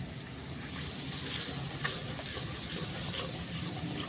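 Chili paste and spices fry in oil for a Bengali tel koi fish curry, giving a steady close sizzle with faint stirring noises throughout.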